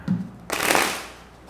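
Tarot cards are shuffled in a single quick riffle, a short papery burst close to the microphone that fades after about a second.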